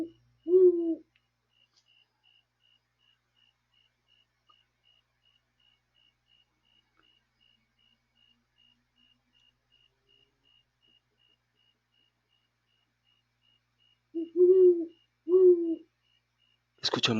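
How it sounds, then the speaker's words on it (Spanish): Low hooting calls of an owl, one short call early, then two more after a long quiet pause, clear against near silence. "Escuchamos la voz de ese búho"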